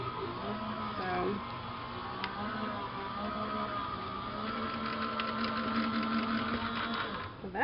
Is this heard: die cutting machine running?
yes